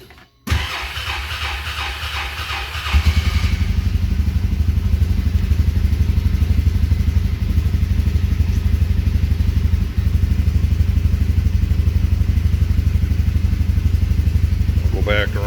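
A Can-Am engine, just fitted with a new fuel filter, cranks briefly, catches and settles into a loud, steady running rumble close by, with faint sounds near the end.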